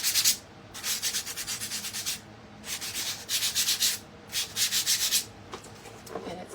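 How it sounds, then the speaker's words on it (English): Small wooden craft pieces are rubbed together to clean them, making repeated rhythmic, close, dry scratchy strokes in several bursts separated by short pauses. "I'm just going to rub them together."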